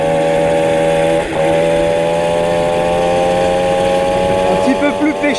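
A motorcycle engine geared with a newly chosen rear sprocket revs up under acceleration, a loud, steady, buzzing drone that dips briefly near the start, then climbs slightly with small fluctuations toward the end.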